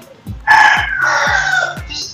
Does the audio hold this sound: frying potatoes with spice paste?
no